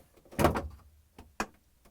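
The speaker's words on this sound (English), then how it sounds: "I'm going to pull out the drawer slightly, a couple of inches." A GE refrigerator drawer slides out a couple of inches with a short scraping rush, followed by a fainter bump and a sharp click about a second later, close and isolated.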